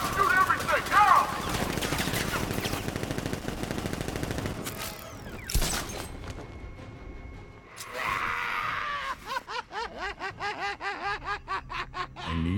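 Bursts of automatic gunfire ring out during a militia ambush in the Batman: Arkham Knight video game, with rapid, rattling volleys and sharp impacts mixed with game effects and voices.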